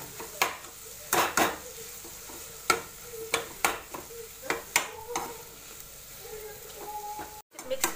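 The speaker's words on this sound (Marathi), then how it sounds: "मिक्स करते" Roasted gram flour stirred into oil in a pan for Punjabi-style paneer bhurji: a gentle sizzle under repeated sharp spoon knocks and scrapes against the pan, irregular and close.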